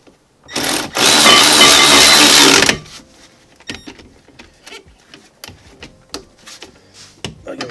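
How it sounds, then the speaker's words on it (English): An electric ratchet tightens rear brake bolts with one loud, steady mechanical whir lasting about two seconds, followed by quieter scattered clicks and clanks of tools. "Or I've got the electric ratchet,"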